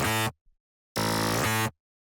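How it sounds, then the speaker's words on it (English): Layered reese bass synth for drum and bass, built from stacked unison layers: a short buzzy burst, a pause, then a longer thick, harmonically dense sustained note, loud with no voices. "So yeah, I quite like the sound of this reese."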